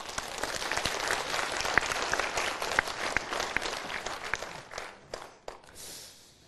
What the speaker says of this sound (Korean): 다윗을 위해서 박수 한번 쳐봐.